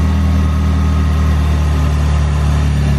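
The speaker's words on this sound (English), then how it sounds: "Seems to be idling as it should again" Steady, low rumbling of a Saab 9-3 2.0T engine idling nearby after an alternator replacement, constant and even with no voices.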